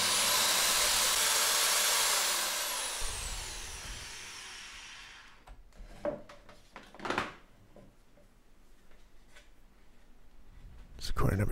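A power tool driving screws into a wooden ITG2 dance pad replica, with a loud whirring burst at the start that fades, then scattered knocks and handling noises while a voice talks.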